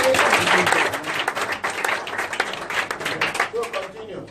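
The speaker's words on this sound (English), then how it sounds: "Make we clap for them now" A room of people clapping during a live radio broadcast, dense hand claps that start strong and gradually thin out, with voices talking over them.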